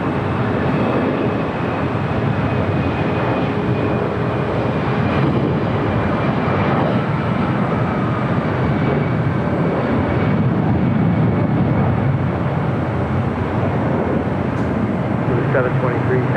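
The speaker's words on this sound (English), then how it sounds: "If it's an A319 rolling down 25 to right" An Airbus A319 airliner rolling down runway 25 Right at LAX gives off a loud, steady, broadband engine roar that holds evenly throughout, distant and unbroken, with a faint high whine layered in.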